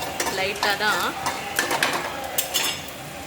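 Close, continuous crackling sizzle of cumin and coconut frying lightly in a hot pan, with scraping stirs and light clinks of a spoon.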